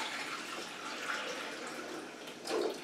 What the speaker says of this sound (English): I'm just going to pour it in the back.